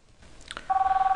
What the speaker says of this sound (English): we're gonna call 1001 from 5001